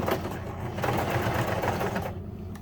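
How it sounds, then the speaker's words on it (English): A home sewing machine runs steadily, sewing three stitches forward and three back to lock a box X stitch, a close, continuous mechanical whirr with a slight pause and change near the end, no voices. "you're just going to sew 3 stitches up, 3 stitches back to lock it in"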